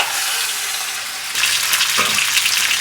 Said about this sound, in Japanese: お鍋に火をつけて油を敷いて鶏ガラを炒めていきます